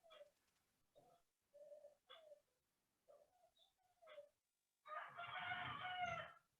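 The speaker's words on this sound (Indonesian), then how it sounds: "yang dengar suara ayam Gede." A rooster crows faintly in the distance during an online class call, its short calls scattered among quiet gaps, followed by a louder noisy burst near the end.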